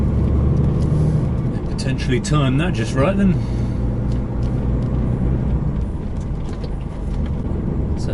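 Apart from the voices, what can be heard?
many trucks driving into a border check-in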